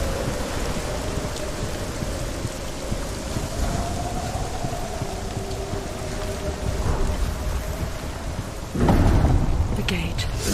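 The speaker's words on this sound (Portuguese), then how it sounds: "Só tem um mar revolto, chuva e um fogo incrível que não apaga com a chuva" Heavy rain and a rough, stormy sea roar in Hellblade: Senua's Sacrifice, a constant loud downpour with a faint sustained tone above it and a sudden louder surge near the end.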